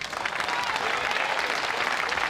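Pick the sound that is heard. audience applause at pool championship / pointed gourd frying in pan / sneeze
audience applause at pool championship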